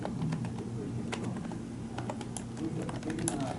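Quick typing on a computer keyboard, a steady run of light clicks and taps heard close up over a low background hum, with no talking.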